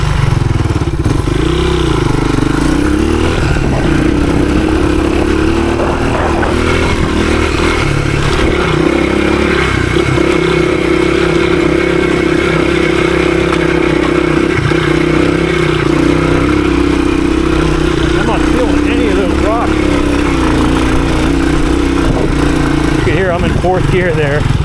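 A 1983 Honda XR200R trail motorcycle rides through woods, its engine a loud, steady drone that lugs at low revs with small rises and falls in throttle throughout, close and continuous, with faint clattering underneath.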